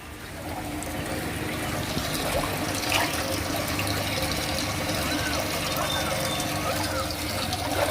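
Dirty, iron-laden water pours steadily out of a homemade broken-pot water filter, a continuous rushing flow of moderate loudness that holds for the whole stretch.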